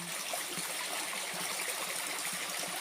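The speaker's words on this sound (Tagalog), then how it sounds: "Tingnan mo naman po yung sapa dito." Water in a clean rural creek flows steadily, a constant broadband rush and babble heard up close with no talk over it.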